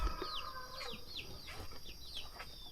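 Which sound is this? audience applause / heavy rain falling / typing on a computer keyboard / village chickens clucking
village chickens clucking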